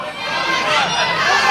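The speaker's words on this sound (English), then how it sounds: "the roar goes up to this educated crowd" A crowd roars at an MMA cage fight, a loud sustained swell of cheering and shouting throughout.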